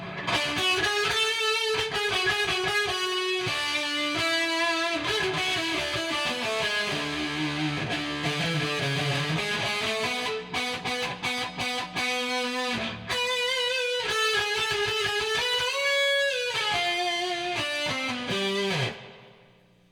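An electric guitar through a homemade reverb pedal set to rockabilly slapback plays a twangy, rhythmic riff with a short slapback echo, loud and close, continuing for the whole stretch before cutting off.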